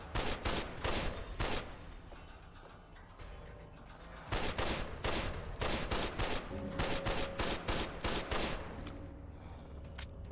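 Repeated loud gunshots in Fallout: New Vegas, sharp reports in clusters with short pauses between volleys, close and dominant with little speech.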